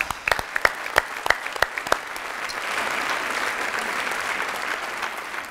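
A studio audience on a Turkish quiz show bursts into applause, opening with a few sharp individual claps before settling into a dense, even wash of clapping that carries on steadily to the end.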